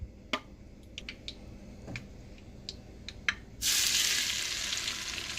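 After a few light ticks and taps, ungo hits the hot toasted oil and a loud, steady sizzle bursts up and carries on without a break.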